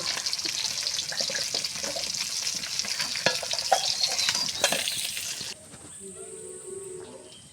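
Cinnamon, chopped onion and torn green chili fry in hot oil, a steady close sizzle with stirring clicks and scrapes, easing to a quieter hiss with a faint tone near the end.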